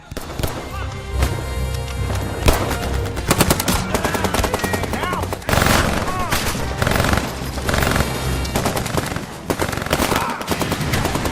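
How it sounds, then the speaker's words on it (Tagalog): Sustained, dense gunfire from a war movie battle, with rapid machine-gun bursts and overlapping shots filling the whole stretch, loud and continuous, layered with dramatic score and crashes. "Walang tigil ang putukan at naghagis ng mga granada ang mga sundalo."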